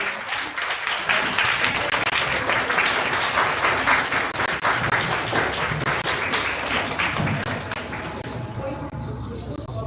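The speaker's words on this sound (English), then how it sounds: "Please give a big round of applause." A crowd at an academic education and technology conference bursts into loud, sustained applause that fills the room for about ten seconds, easing slightly at the end, with voices speaking over the clapping.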